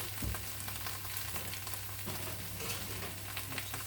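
Onions and bacon fry in a pan with a steady, close sizzle, a brief stirring scrape near the start and a constant low hum underneath, no voices.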